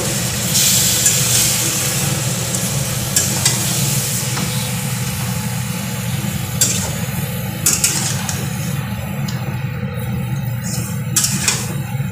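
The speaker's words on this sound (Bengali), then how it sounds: "এবার আমি মাংসটা ছেড়ে দেবো। দিয়ে ভালো করে নেড়ে নেব।" Marinated chicken pieces fry in a pan with a loud, steady sizzle and hiss, while a utensil stirs and scrapes them close by.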